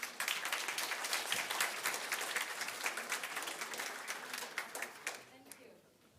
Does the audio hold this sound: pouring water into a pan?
no